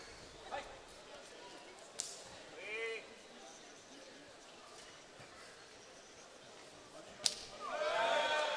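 Kicks land in a kickboxing fight at a Capital Fight event in Nanterre, heard as a few sharp, snapping impacts scattered through a noisy arena with crowd sounds and commentary over them.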